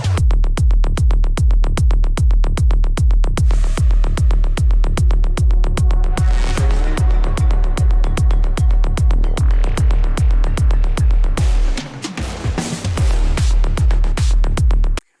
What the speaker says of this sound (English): So I would just put gross beat and listen to it.